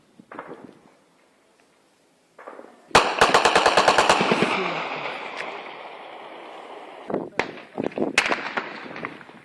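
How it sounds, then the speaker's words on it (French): Heavy weapons fire in the town of Kidal, a long rattling burst of rapid automatic shots followed by scattered single cracks and thuds, distant-sounding and echoing, after a quiet opening with a few faint noises. "nous entendons dans la ville de Kidal des tirs à l'arme lourde"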